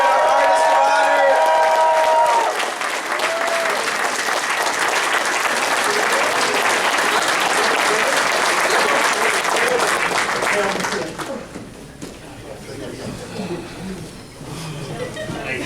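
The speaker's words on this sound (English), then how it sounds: "Give him a round of applause for our guest of honor," Crowd at a fan convention closing ceremony applauding the guest of honor: loud, dense clapping and cheering sustained for about ten seconds, then fading to scattered claps and murmuring, with a voice speaking at the start.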